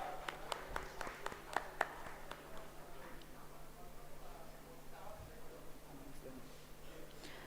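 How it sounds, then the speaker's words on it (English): Applause from an audience at an HR conclave, a handful of sharp claps early on that thin out into a faint, diffuse patter over a low room hum. "Can we have a round of applause for the second runners-up?"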